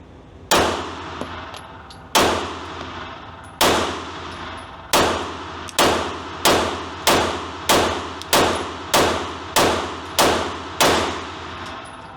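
Springfield Hellcat RDP pistol fired at steel targets outdoors: twelve sharp, loud shots, each with a ringing metallic clang from the struck steel, spaced about a second apart and speeding up toward the end, with no talking.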